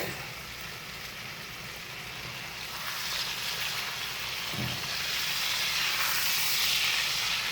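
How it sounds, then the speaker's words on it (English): A butter steak sizzles in a stovetop pan just after being flipped, a close, steady hiss that grows gradually louder and fuller. "We're going to flip our steak."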